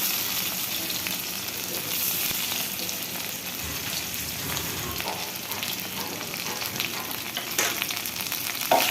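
Rohu fish frying in oil in a pan over tomatoes, giving a steady, even sizzle with faint crackles, close and continuous with no talking.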